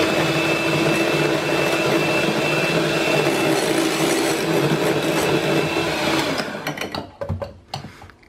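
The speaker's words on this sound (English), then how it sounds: "we're going to whisk that in and get it nice and smooth" Cocoa powder whisked into a keto chocolate mousse mixture, heard as a loud, steady, close-up whirring drone for about six seconds that then cuts off into a few scattered clatters.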